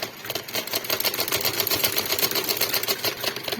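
Sewing machine stitching a shalwar waistband, a fast steady run of close mechanical clatter with rapid regular needle strikes, alone without talk.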